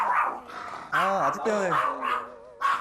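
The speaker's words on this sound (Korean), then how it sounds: "제작진을 보자 목청 터져라 거세게 짖는 녀석" A dog barks loudly and fiercely at a film crew arriving at the front door of a home, with short repeated barks mixed among people talking and greeting.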